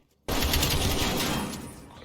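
A loud, sudden burst of rapid gunfire from a first-person shooter video game starts abruptly and rattles on continuously for about two seconds.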